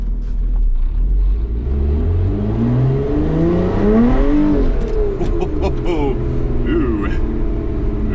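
A Lotus Evora engine, heard from inside the car, climbs in pitch through a gear, then shifts and revs again, loud and close, with a person talking over it.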